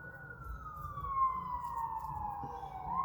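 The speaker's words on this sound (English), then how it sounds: "With the siren there, oh my goodness." An emergency siren wails outdoors in a long, gradually falling tone, with a steady rumble of road traffic underneath, moderately loud and heard from some distance.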